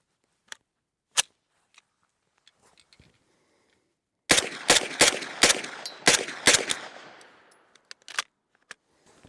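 An MP5 submachine gun fires a rapid, loud burst of close shots with ringing decay, preceded and followed by scattered single clicks and isolated pops from a gun that fires unreliably.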